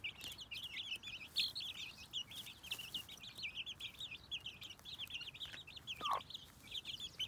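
Hens cluck softly and repeatedly in short bursts, with a few higher chirps mixed in, fairly close and quiet.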